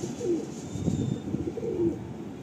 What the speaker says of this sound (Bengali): একজোড়া টেডি পায়রা